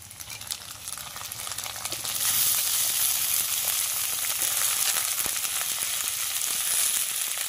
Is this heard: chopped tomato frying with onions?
yes